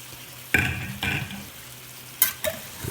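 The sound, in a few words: hamburger steaks frying in a pan, flipped with a spatula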